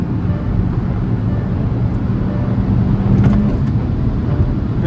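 A Škoda Slavia 1.5L and a Hyundai Verna Turbo 1.5L, both manual, in a drag race, giving a steady, loud, low engine and road roar that holds without breaks.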